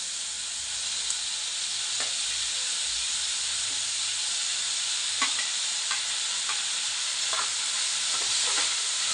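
Chopped tomato frying with onion in a pan for a dried Bombay duck chutney, a loud continuous hissing sizzle with occasional faint utensil taps, close up and unbroken, no talk.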